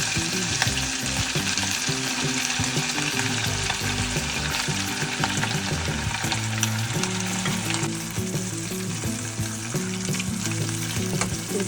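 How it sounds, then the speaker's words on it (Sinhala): Squid mixture for dallo devilled squid sizzles and crackles in hot oil, a loud, continuous close frying hiss with occasional stirring scrapes. "තෙල් ටික රත් වෙද්දී අපි මුලින් සකස් කරගත්ත අපේ දැල්ලෝ මිශ්‍රණය ඒකට"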